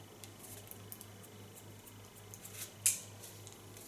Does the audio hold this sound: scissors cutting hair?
yes